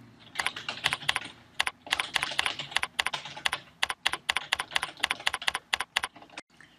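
Close, crisp computer keyboard typing as a project title is entered: rapid bursts of distinct keystrokes with brief pauses, ending in a few spaced taps, no talking.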